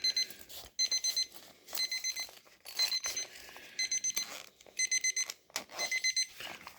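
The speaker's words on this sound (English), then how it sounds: "I have a phone going off, or my dad's alarm or something" An alarm clock or phone alarm beeps in repeated rapid bursts of high electronic tones with short pauses between groups, moderately close and heard alone indoors.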